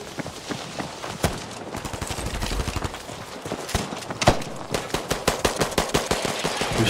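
Rapid machine gun fire from a medium machine gun in Battlefield V on PlayStation 5. The bursts run as loud, dense, rattling volleys throughout, with stretches of sustained fire building toward the end.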